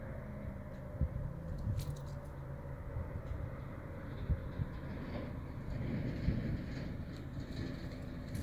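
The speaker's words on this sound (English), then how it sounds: "Cool to see a train go." A train rolls across the Lawyers Canyon Bridge in Idaho, a tall 1908 trestle, heard from a distance as a faint, steady low rumble with occasional clanks and squeals, without talk.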